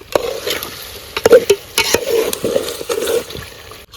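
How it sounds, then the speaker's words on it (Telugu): Chicken curry is stirred in a pot over a wood fire: repeated scraping and sloshing strokes in an irregular rhythm, close and moderately loud, over a faint sizzle. "కట్టెలపై మీద అన్నప్పుడు బాగా కేర్ఫుల్గా ఉండి తాపకోసారి ఇట్లా కలుపుకోవాలి"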